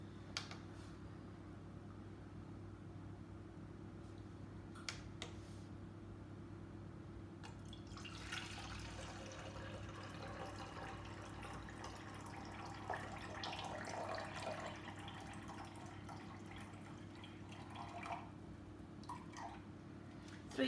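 In a home kitchen during baking, water trickles from a tap with faint drips and splashes, low and intermittent against a steady background hum.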